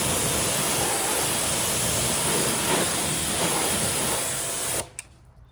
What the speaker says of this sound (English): we're using the Giraffe Grand Falls high flow pressure washer